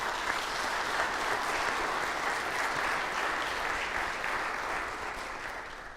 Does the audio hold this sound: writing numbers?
no